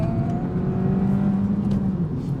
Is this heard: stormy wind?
no